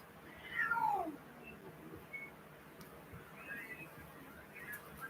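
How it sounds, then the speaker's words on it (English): Indoors, a pet cat gives one clear rising-and-falling meow close by, followed by fainter mewing sounds and small household noises at low level. "My cats don't know how to behave."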